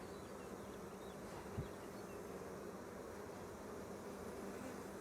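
Honey bees hum in a steady, faint, continuous buzz during a hive inspection outdoors, with a brief soft knock partway through.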